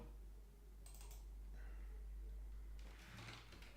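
A computer keyboard gives a few faint, scattered key clicks in a quiet room, with no talking.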